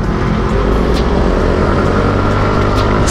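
Yamaha Mio scooter engine running steadily while riding at night, a continuous loud droning hum with wind rush, close and constant, with no talking.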